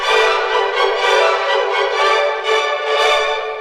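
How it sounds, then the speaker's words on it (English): Orchestra music with all frequencies below 375 cycles per second cut, leaving bright, bass-less strings and winds that swell in phrases, heard steadily and alone. "If we cut out only the low frequencies,"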